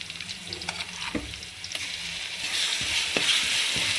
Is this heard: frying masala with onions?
yes